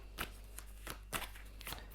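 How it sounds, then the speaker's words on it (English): Tarot cards shuffle in short, crisp riffling bursts, several spaced snaps close to the microphone with a low background hum between them. "So I'm going to shuffle one more card"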